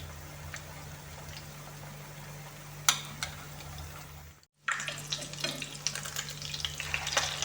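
Chopped chicken fillet cutlets sizzle and crackle steadily in a hot pan, with a brief pause midway as they are flipped before the frying resumes, louder and spattering.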